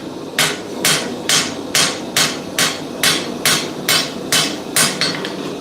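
A hammer strikes a press punch in a steady rhythm, about a dozen sharp, evenly spaced metallic blows ringing out close and loud while forging a bevel on the tip.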